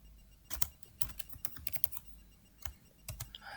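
Fingers tap out bursts of keystrokes on a computer keyboard, quiet and close, with short pauses between runs of clicks.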